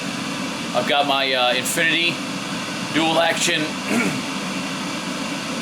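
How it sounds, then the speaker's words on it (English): A steady whooshing spray booth exhaust fan drones continuously in the background while someone talks over it. "That's my amazing, powerful fan that's going to pull the fumes out of here into my little spray booth"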